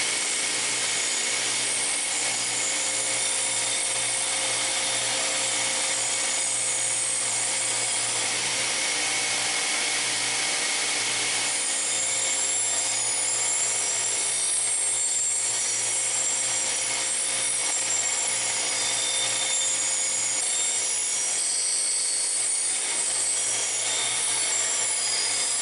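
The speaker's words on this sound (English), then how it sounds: "we're going to put this in the cabinet grinder and do our initial shaping" A cabinet grinder shapes a blade cut from an old steel fence post, giving a steady, loud abrasive hiss and whine that runs continuously with slight shifts in pitch as the steel is pressed against the wheel.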